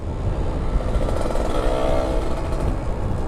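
A Kawasaki Ninja RR two-stroke motorcycle engine drones steadily and loudly throughout, with a rough low rumble and a slight rise in pitch midway, like riding in traffic.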